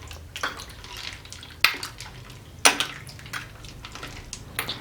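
A spoon stirring a sweet fruit ice dessert (es buah) in a pot, giving soft sloshing liquid and ice sounds broken by a few sharp clinks against the metal, fairly close and without speech.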